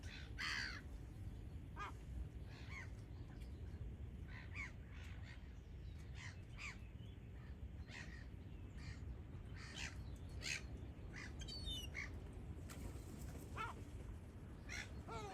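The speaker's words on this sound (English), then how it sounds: "coots, the swan and the seagulls attacking the old strawberries just to the left." Seagulls, coots and a swan squawk and call at a distance over steady outdoor rumble, with scattered short cries spread across the whole stretch.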